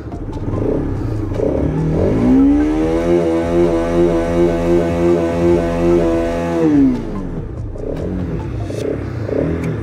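A 2021 BS6 Bajaj RS 200 motorcycle engine idles with a chugging rumble, then revs up loudly, holds a high steady roar for several seconds, and drops back to idle.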